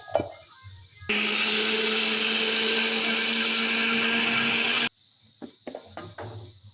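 A mixer grinder grinds coconut in one loud, steady whirring burst lasting about four seconds, close up, then cuts off abruptly to quiet handling clatter.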